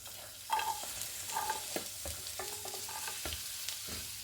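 Carrot, beans and capsicum are stirred in a hot pan for tempering, with a quiet sizzle and scattered scraping spatula strokes in an irregular rhythm.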